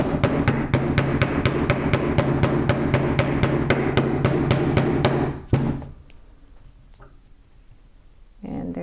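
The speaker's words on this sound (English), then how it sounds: "Put the eyelet setter on top and hit it with the hammer a few times." A hammer taps an eyelet setter resting on a metal anvil to set a TierraCast eyelet, about twenty quick, evenly spaced close strikes before a single louder blow, then quiet handling noise.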